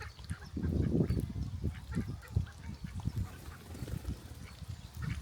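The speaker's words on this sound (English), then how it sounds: "they got a little duck pond. The ducklings." Ducks on a small park duck pond quacking and honking in quick, low bursts, close and fairly quiet, with a few faint voices nearby.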